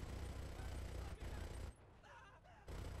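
A fifty-caliber machine gun fires in GTA 5 Online, a loud dense burst of rapid shots with heavy low rumble that briefly drops off, then resumes for another stretch.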